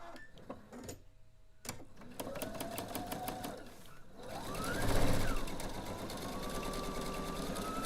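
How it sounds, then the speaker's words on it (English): A sewing machine runs in a steady whirring burst as an oversized corner is stitched onto a quilt block, after a few clicks and handling sounds at the start. "going to sew my oversized corner on there"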